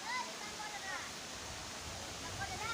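Water from a stream and waterfall at the Akashi Ganga temple rushes in a continuous broadband roar, steady and fairly close, with faint birdlike chirps and voices in the background.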